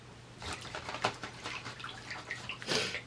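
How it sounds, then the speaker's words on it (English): Sheet of Gelli print paper lowered into water, a soft wet swishing and light splashing with a few sharper drips, close and quiet, with no voice over it. "So I'm going to put this in the water."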